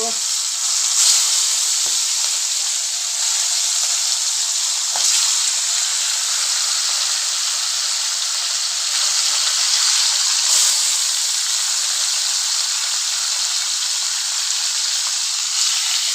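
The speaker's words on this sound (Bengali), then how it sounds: "তেল গরম হয়ে গেছে, আমি এবার একে একে মাছগুলো সব ছেড়ে দিব।" Fish frying in hot oil in a wok: a loud, steady hiss and sizzle that continues for the whole stretch, broken by occasional faint pops and spatters, with no talking.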